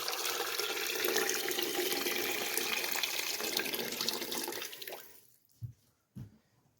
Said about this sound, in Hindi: ये 2 किलो पाए हैं तो 2 लीटर पानी डाल रहे हैं इस पर।